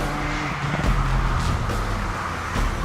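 A Ford Fiesta ST hot hatch drives the Via Campocatino mountain road in Italy. Its engine gives a sustained, close tonal drone with shifting pitch and brief surges, and no one speaks.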